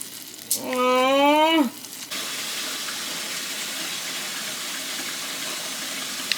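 Caramel sauce in a pan just pulled off the stove, bubbling and burning with a steady close hiss and sizzle that carries on to the end, after a brief rising tonal wail near the start.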